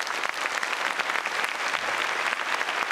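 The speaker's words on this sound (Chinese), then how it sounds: "我们再次热烈鼓掌为他们好不好" A church audience at a 2011 Christmas opera applauds warmly, a dense, steady burst of many hands clapping together close by for several seconds without letup.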